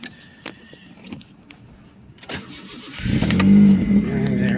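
A 1990 Ford Taurus SHO cranks over on a cold start and catches into a loud, steady idle, following a few clicks and a brief jangle of keys in the cabin.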